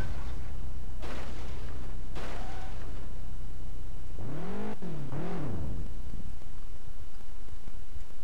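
Car engine revving and drifting on a Japanese street in a drift video game with a 240SX and 700 HP Supra, loud whooshing bursts followed by rising and falling engine whine, close and prominent.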